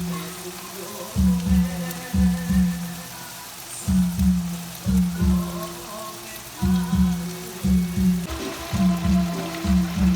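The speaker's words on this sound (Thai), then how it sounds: "ฝนตกพี่น้อง" Rain falls steadily at a home, with a rhythmic dripping or pattering on a surface repeating in clusters over a constant wash of rainfall.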